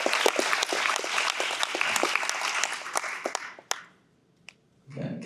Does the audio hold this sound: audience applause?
yes